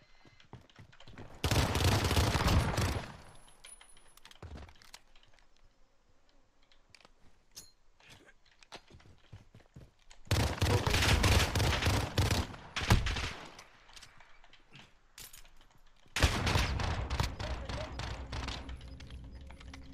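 Gunfire in the video game Call of Duty comes in three loud bursts of rapid fire, separated by quieter stretches of keyboard clicks and faint background sounds.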